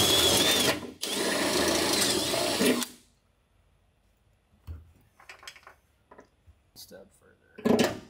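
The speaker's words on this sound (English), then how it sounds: "So I'm going to use a step drill to drill a 3/8 inch hole here." A step drill bores a 3/8 inch hole in the bedside of a 2023+ Chevy Colorado/GMC Canyon for a rivet nut, two loud close whirring bursts with a short break between them, then quieter clinks and handling noises.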